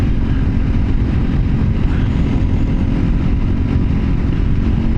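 A Janus Halcyon 250 motorcycle, a light 250 cc bike, runs steadily while being ridden, its low engine drone mixed with heavy wind rumble, loud and continuous.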